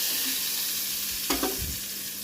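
Crushed garlic and cumin sizzle in hot oil as a tempering, a soft continuous frying hiss with a brief stirring clatter partway through.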